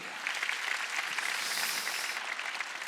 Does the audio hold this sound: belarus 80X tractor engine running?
no